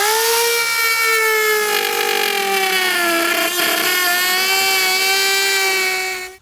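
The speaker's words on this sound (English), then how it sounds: "I'm going to use a Dremel tool to cut some of this out." A Dremel rotary tool cuts through a plastic vehicle fascia with a loud, steady high-pitched whine whose pitch dips slightly under load, close up and continuous before stopping.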